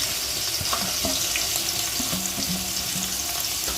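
Sliced onions sizzle in hot oil with cinnamon, cloves and cardamom for a vegetable biryani, a steady close crackling fry with a few brief clinks and stirring scrapes.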